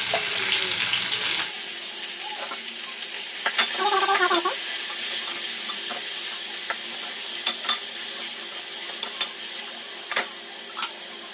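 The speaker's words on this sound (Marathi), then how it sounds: "थोडस तेल घालायचंय, त्यामध्ये फ्राय करून मी घेते." A little oil frying tamarind in a pan, loud sizzling that drops to a softer steady crackle, broken by several sharp clinks and scrapes of a spoon against the pan.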